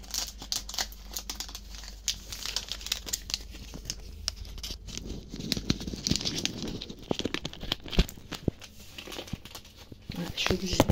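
Sealed Monnaie de Paris collector coin sachets being pried at, giving a steady run of close plastic crinkling and crackling with sharp tearing ticks; someone speaks now and then over the fumbling.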